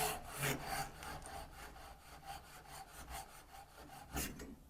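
A Zetsaw Japanese pull saw cuts a bevel in wood, giving a rhythmic rasping of quick back-and-forth strokes, close and fairly quiet, with no talk.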